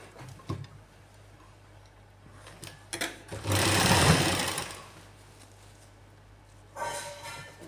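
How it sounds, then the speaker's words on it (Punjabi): Sewing machine stitching a salwar hem, with a few scattered ticks and clicks before a single loud burst of fast stitching that runs for about two seconds, then a short second run near the end. "ਇੱਥੇ ਆਪਾਂ ਰੱਖ ਕੇ ਹੁਣ ਨਾਲ ਨਾਲ ਇੱਥੇ ਸਿਉਂ ਲਾਉਣੀ ਹੈ"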